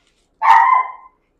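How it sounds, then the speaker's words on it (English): A single short bark from a dog, close and clear, standing alone in silence. "That's my sister's dog."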